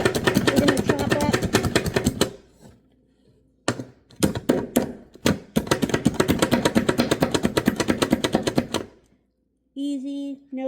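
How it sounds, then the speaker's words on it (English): A knife chops onions on a cutting board in rapid, rhythmic bursts of sharp taps, close and loud, pausing briefly between runs, with a short stretch of talk at the end. "I'm going to go ahead and start chopping our vegetables. I've got some onions. We're going to chop up."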